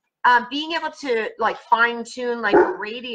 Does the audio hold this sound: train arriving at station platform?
no